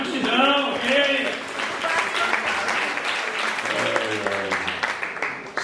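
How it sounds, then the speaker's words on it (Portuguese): An audience at a carnival-season night show gives a round of applause for a guest pastor, steady clapping running throughout beneath people talking. "uma salva de palmas pro Sidão"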